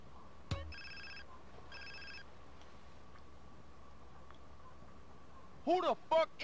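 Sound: phone ringing in video game GTA San Andreas

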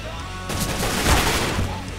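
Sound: machine gun gunfire in video game CS:GO

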